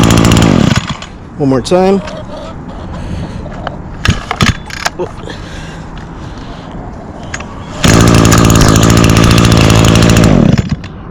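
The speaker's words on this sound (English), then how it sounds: "now I'll demonstrate the i30 recoil starter" A small outdoor power equipment engine is pulled with an i30 recoil starter; short cranking pulls and sputters come first, then the engine catches and runs loudly for a few seconds before cutting out, with brief talk between.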